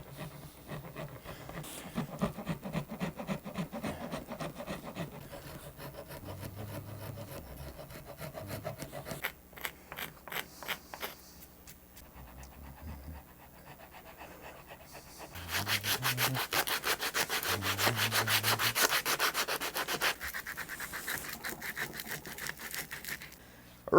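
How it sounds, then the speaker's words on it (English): A small karate rasp files a rosewood guitar neck for a Telecaster build, with rhythmic scraping strokes that come in bursts, grow louder and denser in the second half, and are close and alone. "I'm going to use this little karate rasp"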